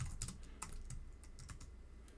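Code being typed on a computer keyboard: quiet, irregular clicks and taps of keys in quick succession, close but faint, with no talk.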